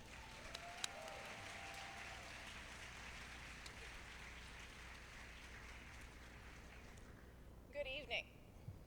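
An evening awards audience applauds a teacher with a soft, even wash of clapping heard from a distance, and brief voices come near the end.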